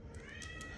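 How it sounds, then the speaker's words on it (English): Jones, a ginger cat, lets out a single brief, faint meow over quiet room hiss. "That is literally a ginger cat called Jones."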